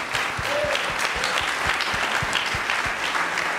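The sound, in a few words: audience applause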